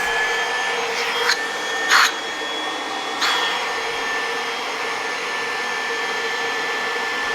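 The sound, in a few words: Kirby vacuum cleaner running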